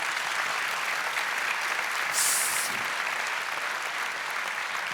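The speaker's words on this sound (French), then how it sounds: "un tonnerre d'applaudissements pour Louis" A crowd at a regional business awards evening gives a continuous wash of loud applause, dense clapping filling the room without a break, a brief swell near the middle.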